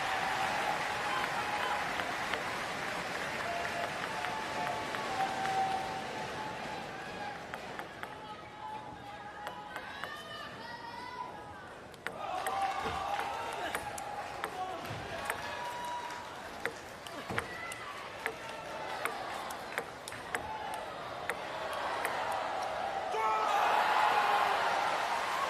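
A crowd at a para table tennis standing doubles match applauds and cheers after a long rally, a broad clapping roar rising and falling with sharp ball and bat clicks, under commentary voices.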